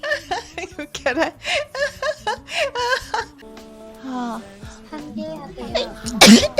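A person sneezes once, a sharp, loud burst near the end, after a stretch of chuckling and voiced sounds.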